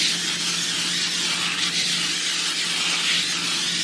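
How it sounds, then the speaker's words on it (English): Pam cooking spray hisses onto the bottom of a pan in a steady, close, continuous spray, broad and airy, with no pauses or voices. "I gotta spray the bottom of my pan first with Pam"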